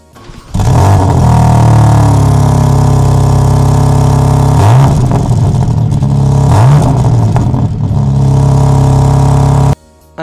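A BMW M3 CS fires up with a loud start, then idles with a deep, steady burble broken by two sharp blips of the throttle, close by and with no talking.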